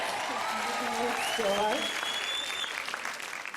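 Audience applause fills a hall at a university media award ceremony, a sustained steady clapping that swells and then tapers, with someone speaking over it.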